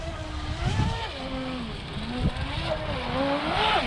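A Wltoys WL916 Swordfish 3S brushless RC boat runs at speed, its high-pitched electric motor whine rising and falling steadily as it turns and accelerates across the water, loud and continuous throughout.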